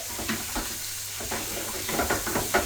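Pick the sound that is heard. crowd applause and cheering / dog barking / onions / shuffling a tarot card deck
onions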